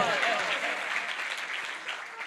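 Audience applause during a church sermon, a steady wash of many hands clapping at moderate level, fairly distant and continuous throughout.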